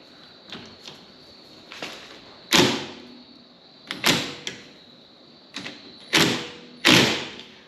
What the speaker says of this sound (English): I'm using an impact gun, but same difference